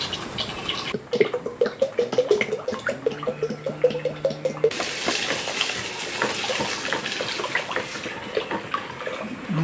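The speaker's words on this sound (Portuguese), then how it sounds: "agora eu vou colocar 2 de óleo." Cooking oil poured into about two litres of water in a home batch of half a recipe, a wet splashing and gurgling pour that runs steadily for several seconds, close and fairly loud, with no talking.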